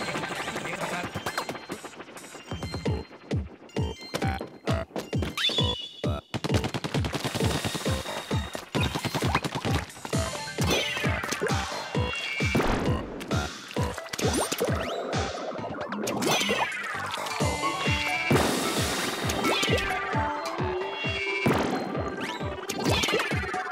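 Bombs burst and ink weapons fire in the Splatoon video game, with rapid rhythmic shooting bursts, splats and sweeping effects layered over game music, loud and continuous.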